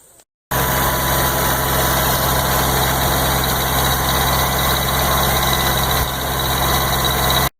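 An old tractor engine with a shortened governor spring drives a sawmill, a loud, steady close drone that starts abruptly after a brief quiet moment and holds a constant throbbing hum.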